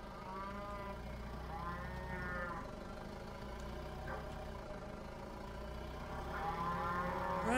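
Cows moo in the Roblox Farming and Friends game, several drawn-out overlapping calls rising and falling over a constant low engine-like drone, with no talk.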